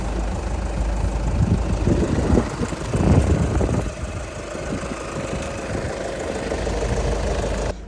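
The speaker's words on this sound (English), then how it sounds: "Honestly, it's really quiet for a diesel." A VW Scirocco diesel engine idles steadily at close range with a low, even clatter, a brief louder rattle in the middle, settling back into a fairly quiet hum.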